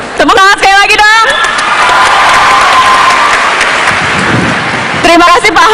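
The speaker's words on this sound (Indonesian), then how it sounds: "Tepuk tangan sekali lagi dong." Loud crowd applause and cheering for Pak Ahok at an event in Malang, a dense roar of clapping and shouts between bursts of amplified speech at the start and end.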